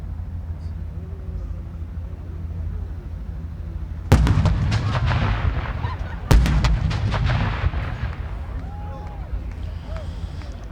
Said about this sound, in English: they were the cannons from HMS Devonshire